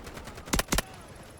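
Two sharp, loud rifle shots ring out close together in the shooter game Delta Force, set against a steady bed of game ambience.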